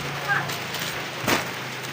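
Rain falling during the day, a steady, fairly loud hiss of drops with a couple of brief louder splashes, and a voice speaking faintly underneath.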